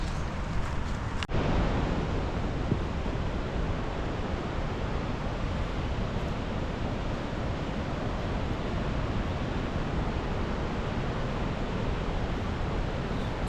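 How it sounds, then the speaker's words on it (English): A river roars with a strong current along a Yosemite trail near Chilnualna Falls, a dense, continuous rushing wash that stays loud and even throughout, with a brief handling knock near the start and no voices. "So that pretty much is the river roaring. It's pretty strong current."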